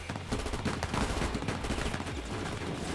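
Bodyguards open fire in AI: The Somnium Files, letting off rapid, crackling bursts of gunfire that rattle on continuously at moderate loudness throughout.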